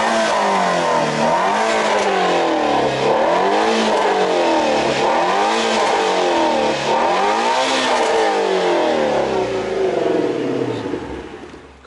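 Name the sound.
Shelby GT350 engine running and revving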